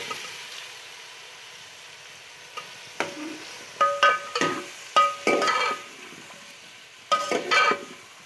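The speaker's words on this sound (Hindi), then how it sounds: "साथ ही में इसमें आलू भी डाल दें, आलू भी इनके साथ भूनेंगे।" Potatoes and peas stirred and frying in a pan for a potato-and-pea curry, with repeated bursts of sizzling and scraping stirs over a steady low fry background, close and moderately loud, no talking.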